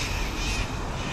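Endangered cockatoos flying over Hong Kong give harsh, raucous calls that blend into a dense, continuous wash of noise, moderately loud with no talking.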